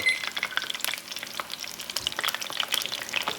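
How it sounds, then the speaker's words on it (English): Battered cod fries in hot oil while held in a Lodge fry basket just above the surface, crackling with bright, irregular pops and spits, close and fairly quiet, with no talk. "I'm gonna just hold it above and let it just kind of fry a little bit"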